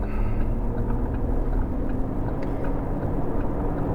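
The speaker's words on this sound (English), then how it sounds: "I'm driving the exact same stretch of highway." A vehicle cruising on a highway during a road test after a Sumo Spring install, a steady low rumble of engine and tire noise filling the cabin without letup and no voices.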